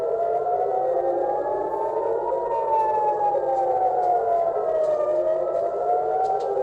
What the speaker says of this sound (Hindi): और इन मिसाइलों के हमलों से पहले सायरन बजता है